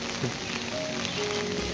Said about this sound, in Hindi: और बारिश हो रही है मित्रों।